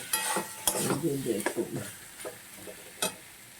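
Soybean chunks and potatoes fry with spices in a pan, giving a steady close sizzle broken by scraping stirs and a few sharp clinks of a utensil against the pan.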